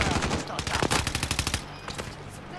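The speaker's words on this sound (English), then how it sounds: "Oh, I'm getting shot." Rapid automatic gunfire in a multiplayer shooter video game, sharp repeated bursts close up for about a second and a half, then a few scattered shots, with faint voices underneath.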